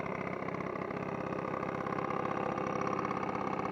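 A 2013 Genuine Buddy 50 scooter idles close by, its small engine putting out a steady, even putter throughout.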